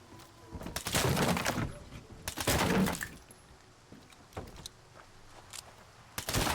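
Gunshots in STALKER 2 come as a few loud, cracking bursts with reverberant tails, separated by quieter gaps, followed by a handful of sharper single reports.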